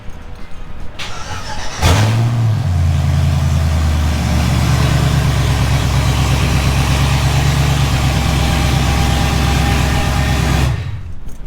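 An engine is cranked after drivetrain and wiring work, catches within a couple of seconds and then runs loud and steady at close range for about nine seconds before cutting off.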